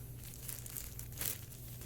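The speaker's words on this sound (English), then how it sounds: "Okay, let's open it up. It comes in its plastic bag." Plastic bag crinkling as a Leatherman Wingman stainless steel multitool is unwrapped, soft rustling with one sharper crackle midway, faint and close with no talk.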